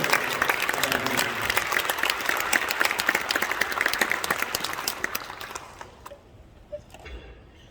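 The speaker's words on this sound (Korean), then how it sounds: "바트 고든 전 미연방하원의원인 큰 박수로 환영해 주시기 부탁드리겠습니다" Sustained applause from a church congregation welcoming former US Congressman Bart Gordon, dense and steady clapping that thins and fades out near the end.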